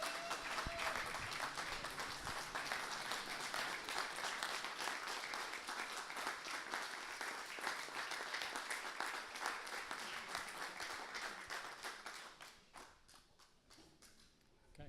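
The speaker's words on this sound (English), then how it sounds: "let's all give a big round of applause to Walt" A room of pilots gives a round of applause for Walt Drake, with sustained, fairly quiet clapping that holds steady for about twelve seconds and then thins into a few scattered claps.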